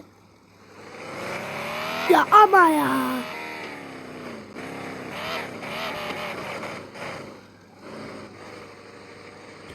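A racing car's engine drones in a video game, with a steady mechanical hum running beneath loud, excited talking that peaks in a burst of shouting early on.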